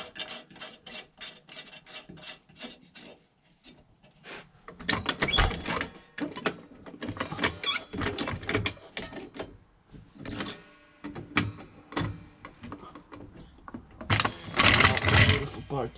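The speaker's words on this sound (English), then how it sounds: "I'll put the nut on." A nut is threaded onto the rear shock bolt of a BMW F20 114i, giving short metallic rasps and ratcheting clicks in uneven bursts, close up.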